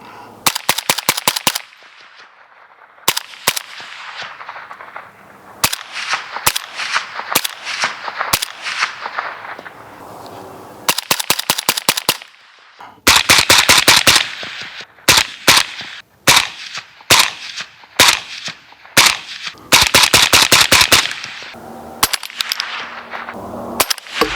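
A suppressed rifle fires 7.62x39 supersonic ammunition in sharp bursts of rapid cracks and scattered single shots across about 24 seconds, with quiet gaps between strings of fire and no talking.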